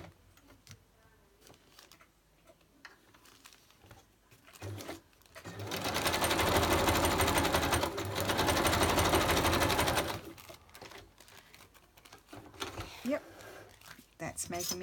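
A sewing machine zigzag-stitches a wax paper bag, running in one loud, steady, rapid burst of about five seconds in the middle, with quieter handling sounds and bits of talk before and after.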